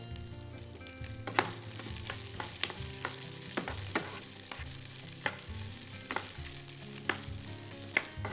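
Chopped green beans fry in a splash of oil for a beans-with-rice-and-tomato dish, stirred quickly so the spatula scrapes in frequent short strokes over a quiet sizzle, with faint background music.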